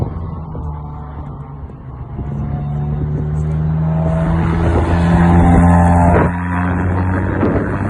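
Single-seater race car on a cool-down lap at Silverstone, a loud close engine drone climbing steadily in pitch as it accelerates, with wind rush over the cockpit.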